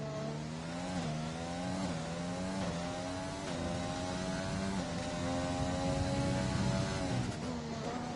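A Formula 1 car engine screams through qualifying at Austria in a racing video game, a loud, continuous high-pitched whine rising and dipping with gear shifts and throttle changes, alone without talk.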